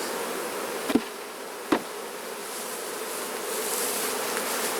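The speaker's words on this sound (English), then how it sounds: "these bees are not overly happy" Honey bees buzz in a dense, continuous drone around an opened, split hive, close and steady, with two sharp knocks early on.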